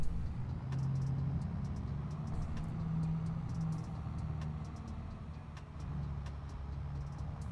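A vehicle in a farming simulator game drives steadily toward a market stand, its engine a constant mid-level hum with faint clicks on top and no voices.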